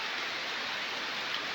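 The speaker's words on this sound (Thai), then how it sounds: "นี่ตอนนี้ฝนยังตกจากอยู่เนาะ" Heavy rain falling in a forest, a steady even hiss of downpour with no breaks, fairly soft and continuous without distinct drops or voices.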